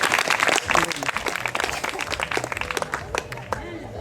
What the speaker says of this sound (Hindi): महेश जी के लिए जोरदार ताली।